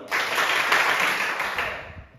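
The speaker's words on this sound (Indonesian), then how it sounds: "Oke, tepuk tangan dulu." A class of seventh-grade students at a junior high school claps hands together in steady, continuous applause that fades out near the end, with little talk.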